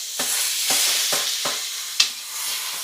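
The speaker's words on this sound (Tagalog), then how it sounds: "Igisa lang natin to." Sardines sautéing with onion and tomato in a pan, a steady sizzle broken by several sharp scraping stirs of a utensil, one louder clack near the end, no voices.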